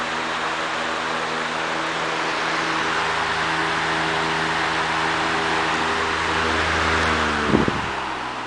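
A Lakewood HV-18 electric fan runs steadily on its high speed setting, a loud, continuous whirring hum with a steady motor drone and airy rush, ending in a brief knock near the end.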